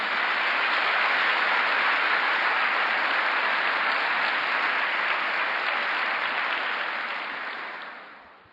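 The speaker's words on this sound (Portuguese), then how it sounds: "Dá um aplauso ao Senhor Jesus." A church congregation at a Sunday service applauds, a broad, even wash of clapping that holds steady before fading out at the end.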